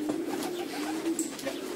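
Pigeons cooing inside a Polish racing pigeon loft, low soft repeated coos close by, overlapping with some faint rustling and a brief higher chirp.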